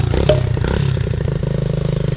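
A small pit bike engine idles nearby with a steady, throbbing putter and a quick clatter early on, running on its own without talk.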